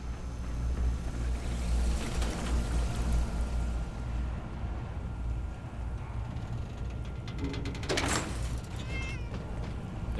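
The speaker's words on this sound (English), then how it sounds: "There's a kitty." A cat meows once in the video game Fallout 4, a short mid-pitched call over a constant low game hum and ambient background noise, with no speech.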